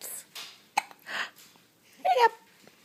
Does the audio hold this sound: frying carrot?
no